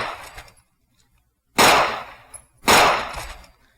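Two sharp, loud gunshots from a modded Whitney Wolverine V2 rifle in Fallout 4, cracking like firecrackers, each with a brief decaying tail, about a second apart after an earlier fainter burst.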